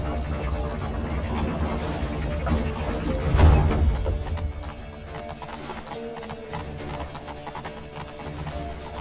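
Horse hooves clatter in a rapid galloping rhythm in The Witcher 3 amid a busy, noisy scene with distant shouting and rumbling.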